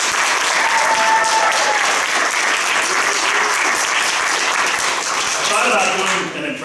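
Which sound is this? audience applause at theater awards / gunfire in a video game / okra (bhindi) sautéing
audience applause at theater awards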